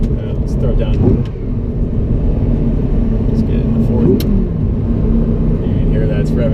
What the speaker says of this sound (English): You can hear that it's revving really, really fast.